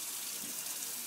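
Hot water being poured into a pan of shrimp and zucchini sauce, about a quarter cup, a steady close rush of liquid lasting about a second.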